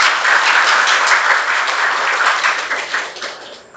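Students at SMP Negeri 1 Bulu junior high school applaud during a school assembly, a dense, loud burst of many hands clapping together that holds steady and then tapers off near the end.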